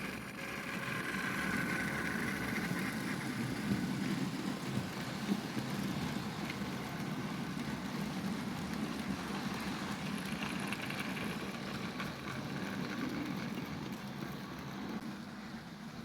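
A Bachmann BR Class 47 model diesel locomotive pulls a heavy train of freight trucks around a model railway, giving a steady, faint motor whir and rolling rumble that continues unbroken.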